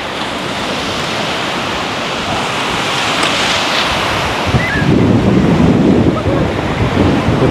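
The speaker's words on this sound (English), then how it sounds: "It's the beach." Ocean surf rolls onto the beach beside the Asbury Park boardwalk in early morning, a steady loud wash of waves with wind buffeting the microphone and a heavier surge toward the end.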